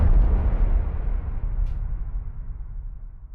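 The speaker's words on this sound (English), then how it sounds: "We have sub booms, something like this." A deep, rumbling sub boom hits at once and slowly decays, its heavy low end fading over a few seconds.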